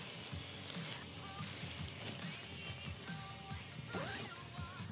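Clothing-style zipper on a mailed package being pulled open in a busy room, a scratchy rasp running through several seconds amid crowd noise and background chatter.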